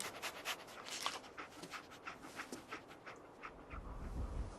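A dog companion in the game Fallout 4 sniffs and pants in quick, rhythmic breaths, faint and close, followed by a low rumble at the end.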